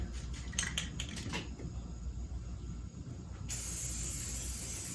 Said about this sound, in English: I'm going to spray this.